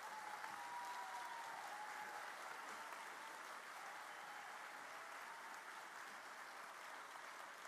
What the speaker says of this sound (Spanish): Un fuerte aplauso para nuestros graduados.